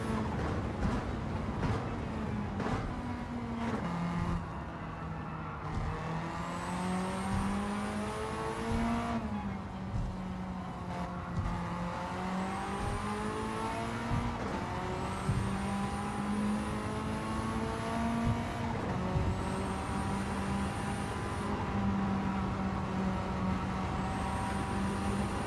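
The Mitsubishi Evolution VIII race car engine in Gran Turismo 7 at Tokyo drones and revs continuously. Its pitch climbs through the gears, drops with shifts and braking, and rises again, loud and close throughout.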